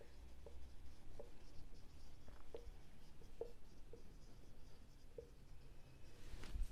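Quiet pen or chalk strokes on paper or a board during a class 9 algebra maths lesson, a few faint scratches and taps at irregular intervals over low room hum, with no talking.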